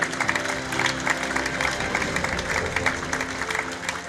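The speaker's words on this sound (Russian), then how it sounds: "Приветствуем бурными аплодисментами наше уважаемое жюри!" Enthusiastic audience applause for the jury at a theatre award ceremony, a continuous dense clapping that fills the hall over a steady musical background.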